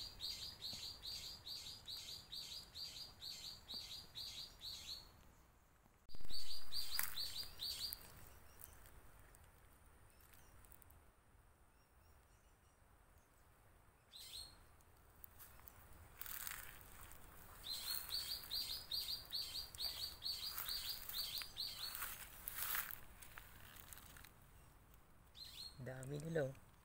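Flock of hundreds of cattle egrets at a swamp, high chirping calls in repeated bursts that stop and restart, with a loud bump near the middle and a faint voice talking in places.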